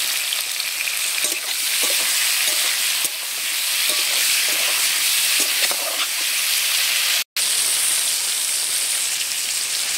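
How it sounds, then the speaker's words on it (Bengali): Pointed gourd (potol) frying in hot oil with a pinch of salt, a steady dense sizzle lasting throughout with occasional stirring clicks and one brief dropout near the end. "পটলগুলো ভাজা হয়ে গেছে"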